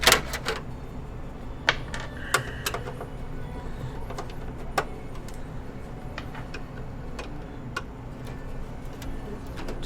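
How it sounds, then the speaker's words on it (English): Screws are being removed from a gaming PC's power supply, heard as scattered sharp metallic clicks and ticks at irregular intervals over a faint background hum. "Taking out the power supply screws right now"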